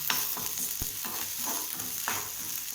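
Tamarind sautéing in a pan for garlic chutney: quiet sizzling under several distinct spatula scrapes and knocks, spaced irregularly, close and fairly soft.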